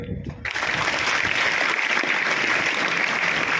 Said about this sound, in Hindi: सिर्फ वही ताली बजाएंगे